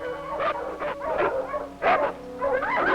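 Sled dogs from a dog team in Newfoundland and Labrador bark and yip in short, excited bursts, with a few whimpering cries, fairly close and continuous across the moment.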